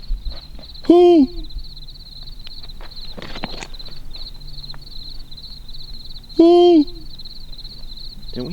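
An owl hoots at night near a cave, two loud, close calls several seconds apart, each a short wavering hoot, with soft rustling and faint footsteps between them.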